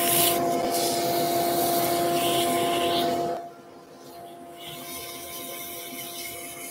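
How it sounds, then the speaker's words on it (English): Steady sanding of a wooden turned bauble on a lathe, a continuous rubbing hiss with a whirring hum that drops away abruptly halfway through, leaving quieter background noise. "Want to sand it."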